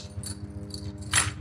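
Light metallic jingling from a saddle cinch on a horse comes in a few short bursts over a low, steady hum.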